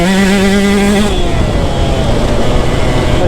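A two-stroke dirt bike engine revs hard while being ridden, loud and close, the pitch holding high and then dropping as the throttle eases, with no talking.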